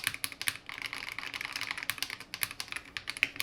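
Crisp, clacky keystrokes from a Royal Kludge RK84 mechanical keyboard with vintage white switches in quick irregular bursts, close up and alone, with sharp high-pitched clicks on each key press.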